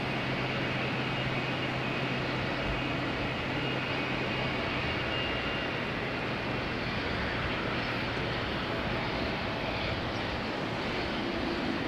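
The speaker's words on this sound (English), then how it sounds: "that Embraer Praetor is approaching, flying over the city of Amsterdam right now" A steady, distant jet engine roar from an Embraer Praetor business jet approaching overhead near Amsterdam Schiphol Airport on a rainy day hangs in the air, broad and unchanging, with no voices.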